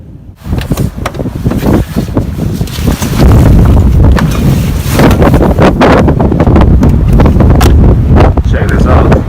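A strong winter windstorm roars across a bushcraft camp with a military lavvu tent, loud, continuous gusting buffeting the microphone and rising heavier midway, with a voice partly buried beneath it.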